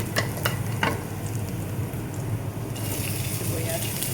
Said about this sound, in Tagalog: Lagyan na natin yung bawang.